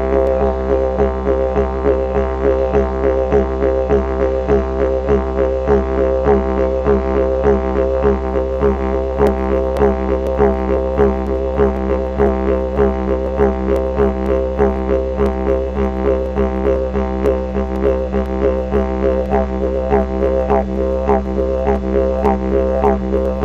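A didgeridoo played with circular breathing holds a continuous low drone in an even, steady rhythm, with regular pulsing accents and no break for breath, loud and close, with no voice over it.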